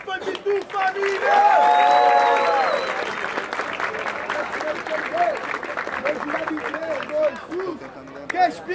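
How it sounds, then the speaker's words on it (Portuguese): A crowd at a rap battle applauds and cheers in a sustained burst of clapping, while voices shout over the noise throughout. "Salva de palmas pra Bidu, mano!"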